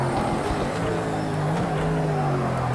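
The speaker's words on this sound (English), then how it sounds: "Accidentally made a double shift, went down the first." A race car engine in Project Cars 2 during a BMW endurance race at the 24, droning steadily at close range after an accidental double downshift into first, the pitch wavering and holding high without a break.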